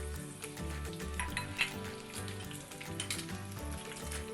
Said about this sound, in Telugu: ఎర్రగా వేగాలి ఉల్లిపాయ ముక్కలు.